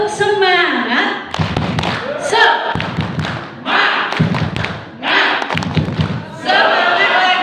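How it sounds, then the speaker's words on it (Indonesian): A room of primary school teachers performs a rhythmic cheer-clap, bursts of patterned hand-slapping alternating with loud chanted voices, repeated in several rounds, close and lively. "kita tepuk dulu yuk. Ya, tepuk semangat."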